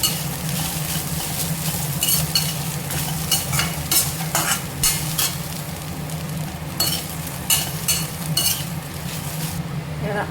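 Ingredients frying in a pan are stirred briskly, with a spoon scraping and clinking in quick repeated strokes over a constant close sizzle. The sound stays steady and busy for the whole stretch.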